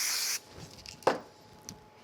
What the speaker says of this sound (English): Give them a quick spray.